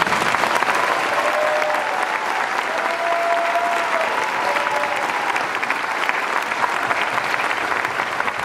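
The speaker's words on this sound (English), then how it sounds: "please join us in giving these fine soldiers a round of applause" An audience applauds soldiers at a military ceremony, steady loud clapping that runs unbroken for the full stretch with a dense crowd texture.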